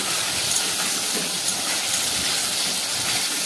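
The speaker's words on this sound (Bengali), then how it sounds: "নুন দিয়ে আমি কচুগুলোকে ভালো করে ভেজে নেবো" Taro and potatoes frying in hot oil with salt, a steady dense sizzle and hiss that holds constant from start to finish without pause, close and fairly loud with no voices.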